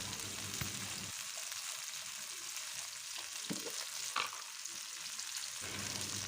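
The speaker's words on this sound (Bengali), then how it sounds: "তখন এর মধ্যে আমি একটা টমেটো আর কিছুটা কাঁচামরিচ কুচি দিয়ে দিলাম" Onion, tomato and chopped green chili fry in a pan for a chickpea bhuna, giving a steady close sizzle with occasional stirring scrapes and no voices.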